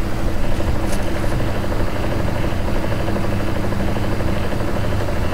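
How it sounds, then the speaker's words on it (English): Helicopter noise in the video game I'm on Observation Duty 5: a dense, continuous rotor drone with a fast, throbbing flutter, steady and fairly loud throughout with no break. "it's not just the helicopter noise, it's something else"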